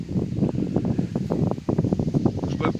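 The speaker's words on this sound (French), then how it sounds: "avec le vent, regarde, le vent il est en train de..." Wind blowing outdoors at a fishing spot, a steady rustling buffet against the microphone with gusty flutter throughout.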